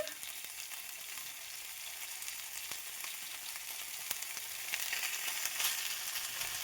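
Canned corned beef frying in a thin layer of oil, a steady, fairly quiet sizzle with a few soft clicks, swelling slightly louder toward the end; no one speaks.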